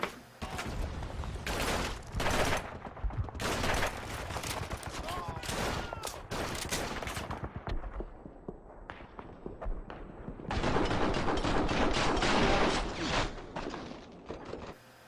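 Gunfire in the war video game Call of Duty 2 (Big Red One), with dense bursts of rifle and machine-gun shots rattling through the whole stretch, mixed with game effects and moments of quieter gaps.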